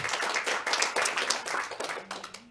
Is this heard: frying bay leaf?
no